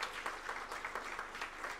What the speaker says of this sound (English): I request all of you to please give a big hand to Shri Adhikari Saab for organizing this seminar.